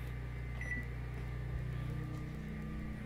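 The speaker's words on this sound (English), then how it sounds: "The microwave is working." The steady hum and drone of a running microwave oven powered by a portable generator, close and constant, with no voices.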